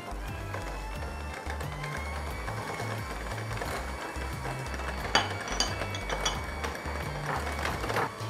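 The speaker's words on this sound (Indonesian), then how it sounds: "baru kita kocok lagi sambil jalan mixernya" An electric mixer beats butter and eggs for a lemon meringue tart batter, giving a steady close whir with a rhythmic low churning pulse throughout. No one speaks.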